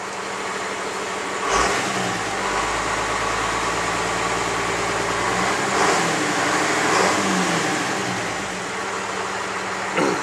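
A 1989 Dodge W250 farm truck with a 12-valve Cummins diesel engine running steadily up close, a loud low chugging idle with a couple of brief revs along the way.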